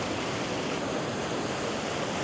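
Ocean surf rolls in steadily as white water washes up a beach at sunrise, a continuous broadband roar with no distinct breaks, fairly loud and close, with no voices.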